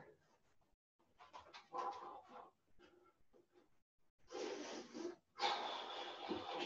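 People breathing heavily during a Panantukan footwork class, ragged panting and gasping breaths, quiet at first and then growing louder and more forceful in long, noisy exhales.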